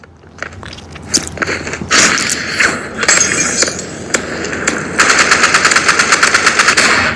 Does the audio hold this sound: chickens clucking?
no